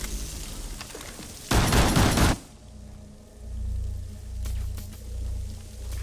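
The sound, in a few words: suppressed pistol gunfire in a video game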